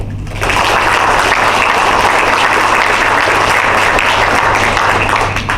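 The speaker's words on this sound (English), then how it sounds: "Please join me in a round of applause for Team Pet." Sustained audience applause at a military change of command ceremony for DLA in Bahrain, loud and dense clapping from a large crowd that starts abruptly and carries on steadily with a faint low hum beneath.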